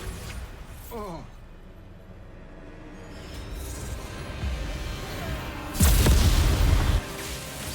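A Bombarda spell explodes in the Hogwarts Legacy video game as a loud, heavy blast lasting about a second near the end, rising sharply over steady combat ambience after a brief vocal cry early on.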